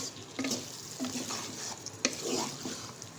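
Mixed vegetable sabzi frying in a pan is stirred with repeated scraping strokes over a steady, close sizzle.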